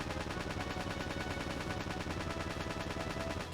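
A continuous buzzing beam laser weapon firing in the video game Battle Engine, a steady pulsing drone with rapid even repetition that holds throughout.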